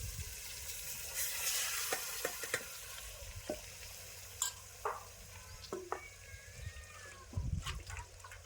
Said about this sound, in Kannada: ಈಗ ಇದಕ್ಕೆ ನಾನಿಲ್ಲಿ ಮಟನ್ ರೀ ನೋಡ್ರಿ, ಈ ಮಟನ್ನ ಹಾಕೊಲತ್ತೀನಿ ರೀ